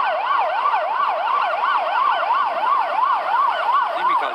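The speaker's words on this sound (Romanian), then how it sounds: "Nimic altceva decât o mașină de poliție" A police car siren wails loud and close in a steady, rising-and-falling pattern, sounding continuously with no voices over it, outdoors on a street.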